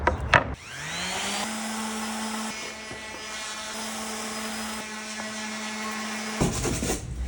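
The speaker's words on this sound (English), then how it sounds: "So we're gonna sand all this stuff off to make it nice and smooth." A power sander runs steadily, smoothing bumps and streaks from paint on a kitchen booth; the motor starts, holds a constant whine for about six seconds, then cuts off, with no talking.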